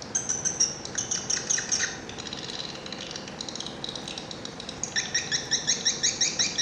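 Swiftlet attraction call played through a speaker, a rapid series of high, metallic chirping twitters repeating in bursts, fading to a softer stretch before the loud chirping returns, steady and fairly close.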